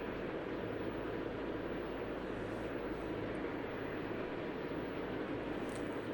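Jet airliners taxiing around Paris airport in the Tower 3D Pro air traffic control game, a steady broadband engine rumble and whine holding evenly throughout with no voices.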